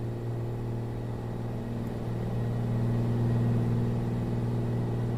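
Steady droning hum of a Beechcraft Bonanza piston engine in MSFS 2024 as the throttle eases during descent, a constant near whir with a strong low tone and no talk.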